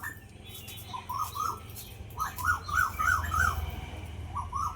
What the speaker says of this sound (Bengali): কোকিলের ডাকটা দারুণ লাগছে।